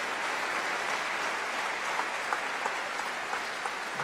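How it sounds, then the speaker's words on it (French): Spectators at a cesta punta semifinal in Saint-Jean-de-Luz applaud, fairly quiet continuous clapping from a distant crowd, steady for a few seconds. "Sous les applaudissements du public de Saint-Jean-de-Luz."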